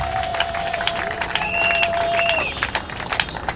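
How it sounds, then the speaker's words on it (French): An audience claps and cheers for a mother at a gathering supporting women, with a sustained tone and scattered voices over the crowd noise. "Applaudissez pour la maman."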